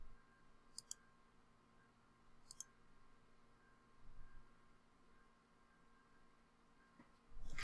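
A mouse click on an Install WordPress button, heard as two or three sharp, faint clicks spaced apart over a quiet room hum, ending in a louder bump of handling noise.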